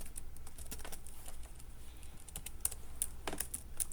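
A computer keyboard is typed on in irregular bursts of light, close key clicks, quiet and without voices.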